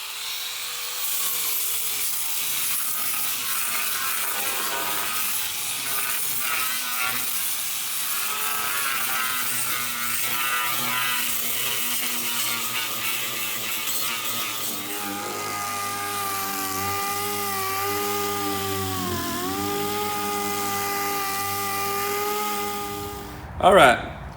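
A power sander works steadily over the top deck of a Majek Red Fish boat under rebuild, a continuous close whir that shifts pitch as pressure changes, ending with a brief clunk.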